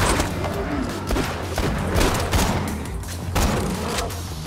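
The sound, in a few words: gunfire in the video game Borderlands 2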